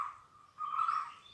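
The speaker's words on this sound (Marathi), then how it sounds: "मस्त पक्ष्यांचे आवाज येत आहेत." A single bird calls among the huge old trees of a Konkan sacred grove in Maharashtra, a faint sustained whistle that briefly swells into a louder, wavering note, with no voices.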